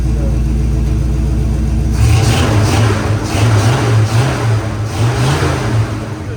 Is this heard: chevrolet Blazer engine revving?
yes